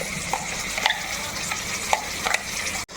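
Barun gota paste is stirred into masala frying in a pan: a constant sizzle with repeated scraping strokes of the spoon and light clicks, close and alone.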